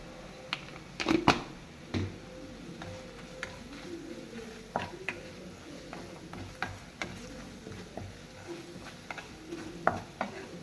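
Onion chutney being stirred in a pan with chili powder added, a spoon scraping and clicking in irregular light knocks over a faint background sizzle, no voices.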